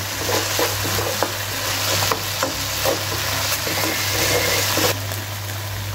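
Mustard chicken sizzling in a pan while being stirred, a steady frying hiss with scraping stir strokes up close.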